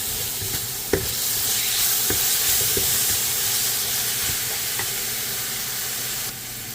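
Crushed garlic and green seasoning sizzle steadily in a pot as they are mixed in for a king fish curry stew, a continuous hiss broken by a few sharp utensil scrapes and knocks near the start.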